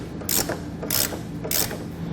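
A ratchet wrench tightening base plate nuts on a 2011 Ford Fusion, three short bursts of rapid clicking spaced evenly, close and clear.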